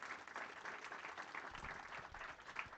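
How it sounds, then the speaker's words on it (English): An audience at an HR conclave at a Delhi business school applauds after speaker introductions, a dense, even patter of many hands that sounds soft and distant and lasts the whole stretch. "So huge round of applause."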